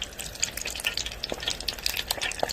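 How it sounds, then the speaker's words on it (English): Steady crackling sizzle of battered chicken frying in hot grease, with sharp pops scattered throughout at close range. "it is frying"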